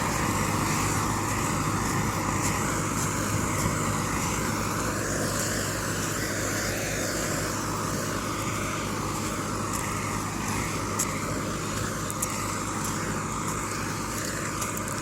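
A heavy tractor engine drones steadily throughout while pulling a plough, a continuous low rumble with no pauses or speech.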